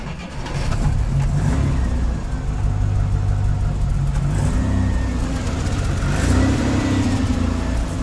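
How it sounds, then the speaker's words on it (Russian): A cold ZAZ 968 car engine runs at a steady, rough idle close by. A continuous low rumble holds throughout with slight wavering, and no one speaks. "Холодный движок."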